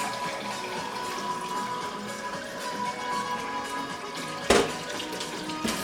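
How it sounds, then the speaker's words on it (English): Tap water runs steadily from a faucet through a 10-stage drinking-water filter system as a soft, continuous hiss, with a brief sharp knock near the end. "once you pull out that lever, the water will start coming through this system"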